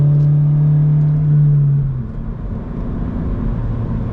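A Toyota GR86 with an MBRP exhaust accelerating, heard from inside the cabin as a loud, steady droning engine tone that holds and then drops away into a lower rumble.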